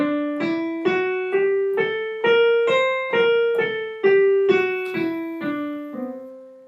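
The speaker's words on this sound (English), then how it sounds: "Lydian dominant, which is the 4th mode, and it kind of sounds like this." A single instrument plays the Lydian dominant mode, the fourth mode of melodic minor, as a clear ascending and descending scale of about twelve evenly spaced bright plucked notes, close and alone.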